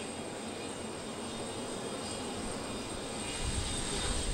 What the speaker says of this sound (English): It will ride on the special plane, an Antonov 124, the largest cargo plane in the world.